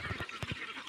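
Farm ducks, newly bought and just let out into an open field after long confinement, give a few short, close nasal quacks in quick succession during a one-second burst.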